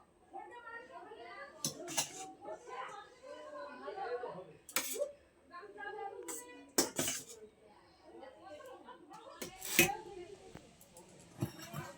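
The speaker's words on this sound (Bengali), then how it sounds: "আমাদের খাওয়া দাওয়া শুরু হয়ে গেছে, আমি সবার ভাত বেড়ে নিচ্ছি।" Hot steaming rice served onto plates at a home meal, with scattered clinks and scrapes of utensils against dishes, quiet and close, under family chatter and some laughter.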